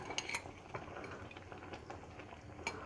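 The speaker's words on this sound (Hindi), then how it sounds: "अब मैं इसमें पनीर डाल दूंगी, जो पनीर मैंने नमक के पानी में डाल के रखा था" Paneer cubes that had been soaked in salted water drop into a pan of simmering spinach gravy for Punjabi palak paneer, with a few soft clinks of a utensil against the pan over a steady bubbling cooking background.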